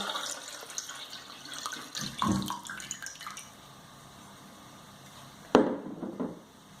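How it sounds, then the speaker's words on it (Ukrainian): Water poured into a saucepan while preparing a herring marinade in a home kitchen; a quiet trickle and splash with a few soft clinks and a sharper knock near the end, no voices. "Беремо кастрюльку і будемо готувати маринад. В неї виливаємо воду."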